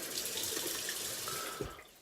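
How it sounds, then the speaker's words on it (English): Water running from a tap as it is added to a shaving brush and lather, a continuous close splashing stream with a brief drip near the end. "and then add a little bit of water"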